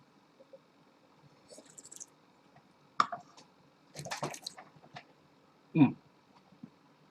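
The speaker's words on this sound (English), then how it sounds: "Do a rinse." Wine is swished and rinsed around the mouth at a tasting, giving soft wet slurps and squishy gurgles in a few separate bursts, close and quiet.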